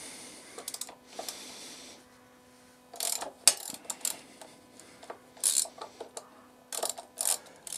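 Nuts are worked loose on the front wheel of a BMW GSA motorcycle, giving bursts of close metallic clicking and ratcheting separated by short pauses.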